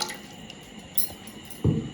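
Water drips from freshly churned butter made from milk cream and ice cubes: a few faint, sparse drops and soft wet squishes, ending in one louder splash near the end, with no talk.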